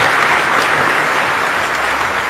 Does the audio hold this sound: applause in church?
yes